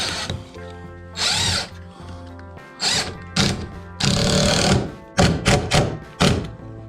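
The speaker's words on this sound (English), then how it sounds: "I gotta get out my star drill bit." Power drill with a star bit driving a 1 1/4 inch screw to mount a fixture in a workshop: several loud, close whirring bursts of varying length, separated by short pauses and clunks.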